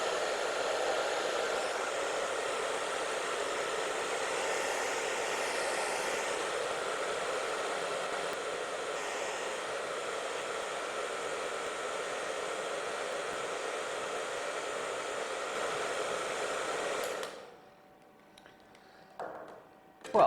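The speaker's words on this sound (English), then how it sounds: "experiment with the hairdryer" A hairdryer runs continuously with a steady, close, breathy whoosh for about seventeen seconds, then cuts off, leaving near silence and a few faint handling noises.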